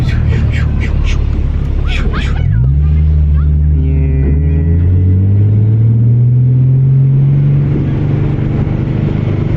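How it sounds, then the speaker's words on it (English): A 2011 Ford Mustang accelerates hard in first gear, heard from inside the car: a loud engine whose pitch climbs steadily for several seconds before easing, with a rumbling low end throughout. "This first gear pull."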